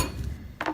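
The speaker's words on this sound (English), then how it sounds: "You can whack it like that with the back of the knife" A single sharp, close knock of a knife's flat back whacking a garlic clove on a kitchen board, landing near the end after a moment of quiet kitchen noise.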